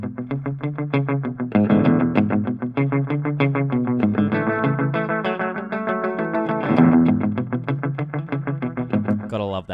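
A rockabilly electric guitar plays a lively run of picked notes through a slapback tape echo, each note followed by a quick repeat, with a thick, slightly driven tone sustaining fairly loud and close.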